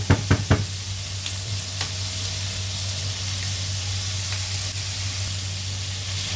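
Shrimp stir-fry in a hot pan, giving a steady, even sizzle. A few sharp knocks of a utensil against the pan come at the very start, with one or two softer taps later.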